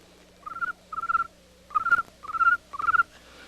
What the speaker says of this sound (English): And the sound of crickets chirping.